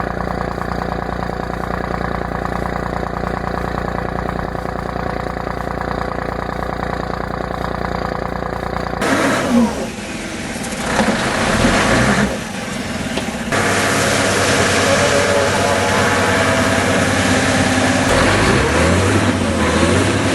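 Cummins diesel truck engine idling in icy winter conditions, a steady low rumble that runs continuously, shifting character partway through as other mechanical noise joins before settling back into an even idle.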